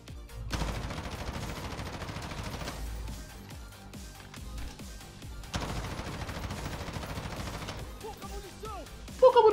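Sustained automatic fire from an M4 rifle aimed at a wall in Call of Duty Warzone, in two long bursts of rapid shots separated by a short pause, loud and close with no talking.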